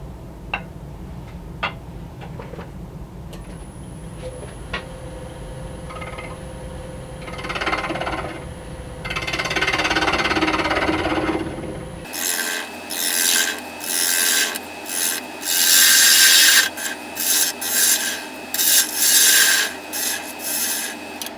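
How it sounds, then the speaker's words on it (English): A wood lathe faces the bottom of an acorn lidded box. A quieter scraping of the spinning wood gives way midway to loud, rhythmic rasping bursts as the tool bites in repeatedly. "Now I'm going to face the bottom part and start working on making the mortise"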